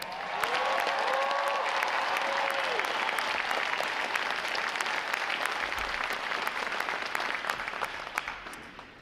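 An audience applauds the graduating divisions at a Navy boot camp graduation ceremony. The clapping is dense and sustained, with a brief whistle early on, and slowly fades.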